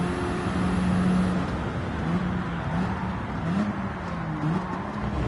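Race car engine held at full throttle in Gran Turismo 7, a steady loud droning roar with slight pitch wavers as it pulls through a corner, continuous with no talking.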